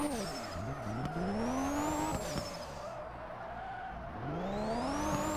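A race car engine revs up and down with repeated sweeping pitch changes in the drifting game Hashiriya Drifter, peaking near 7,000 RPM, steady and loud, with tire squeal running underneath throughout.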